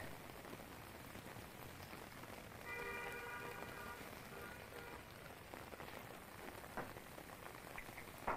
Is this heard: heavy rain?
yes